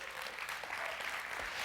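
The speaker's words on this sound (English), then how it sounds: "Give yourselves a great big hand." A church congregation applauds, a dense continuous wash of clapping from many hands filling the room at steady loudness.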